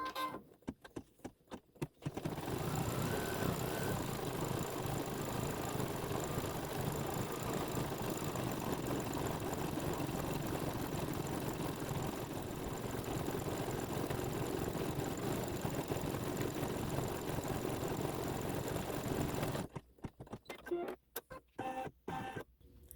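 An embroidery sewing machine stitches the detail and thread tail of a spool motif in purple thread on a quilt block, running as a steady, dense mechanical whir for most of the stretch, with quieter handling sounds at start and end.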